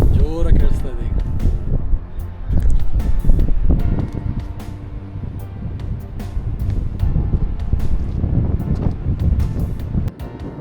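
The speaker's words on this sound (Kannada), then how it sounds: "ಗಾಳಿ" Strong wind at Z Point, a hilltop viewpoint in Chikmagalur, batters the microphone in loud, gusting roars and buffeting bursts that continue throughout, with a voice briefly audible beneath it.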